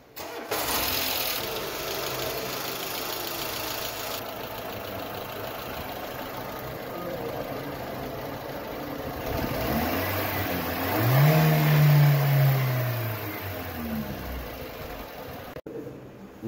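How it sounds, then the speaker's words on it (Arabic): A car engine, freshly changed oil, runs at a steady idle for a long stretch, with a low rumble swelling briefly midway before settling again. "ندور برضه ونسمع حضراتكم صوت الموتور"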